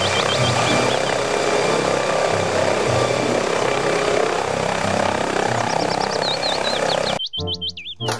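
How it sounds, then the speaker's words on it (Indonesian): A toy helicopter whirs with a loud, continuous rotor-like drone and electronic chirps, cutting off abruptly near the end into a short squeaky toy noise. "Helikopter."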